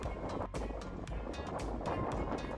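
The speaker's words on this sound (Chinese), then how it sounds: "今天小雨，风很大" Strong wind gusts buffet the microphone outdoors during light rain, a continuous roaring rush with repeated sharp bursts of wind noise, loud and close, with no voices.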